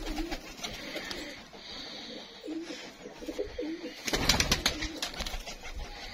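Pigeons coo steadily close by at a loft where pigeons are kept, over a busy outdoor background with a louder burst of flapping or rustling partway through.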